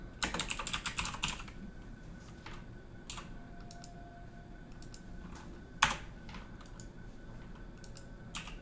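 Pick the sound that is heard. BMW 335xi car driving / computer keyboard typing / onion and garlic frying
computer keyboard typing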